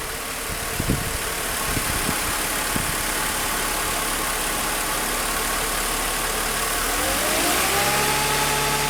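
Mercedes M104 engine idling steadily, then its pitch climbs smoothly as the idle rises toward 1100 RPM, a close, continuous hum with a few low knocks early on.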